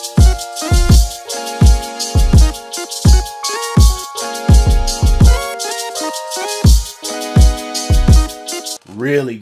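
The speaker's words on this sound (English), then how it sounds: "Really great hi-hat loop." Hip hop drum kit in a smooth beat: punchy kicks and snares under a steady, busy hi-hat loop, with sustained melodic chords layered over it, loud and upfront, ending on a short pitched sweep.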